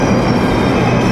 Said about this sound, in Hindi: ये रही हमारी मेट्रो जो कि रात के 10 बजे थोड़ी सी खाली आ रही है